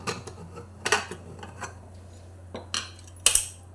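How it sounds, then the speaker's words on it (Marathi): A pressure cooker being opened in a home kitchen after cooking dal for puran poli, with several sharp metallic clanks and scrapes of the lid and pot spaced over a steady low hum. "आपण कुकर ओपन करून बघूया."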